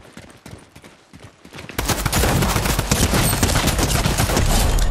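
Dense, continuous weapon fire in a Fortnite Creative 1v1 match, starting with scattered shots and then swelling into a loud, sustained rapid barrage.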